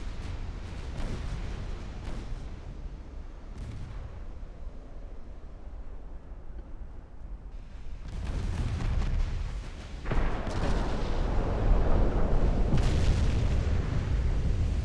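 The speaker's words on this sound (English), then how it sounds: "Another 17-inch hit on an enemy battleship." Naval gunfire and 17-inch shell hits on an enemy battleship in a warship strategy game: low rumbling booms and blasts roll through, growing louder and denser in the second half as several heavy impacts land close together.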